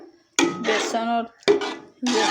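A spoon stirring grated carrots in ghee in a pan while making carrot barfi, giving loud close metallic clanks and scrapes in two bursts separated by short pauses.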